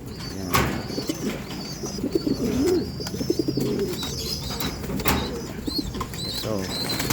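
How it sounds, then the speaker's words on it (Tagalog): A group of pigeons coos together, with overlapping low throaty calls, sharp wing flaps and occasional chirps close by over a constant murmur. "Sabay-sabay yan mga kalapatids."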